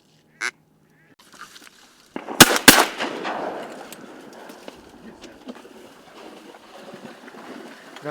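Two sharp shotgun blasts ring out in quick succession during a morning duck hunt for snow geese in the Carolina outdoors, loud and close, after a brief earlier bang and quiet, then fading into open-air ambience with faint bird calls.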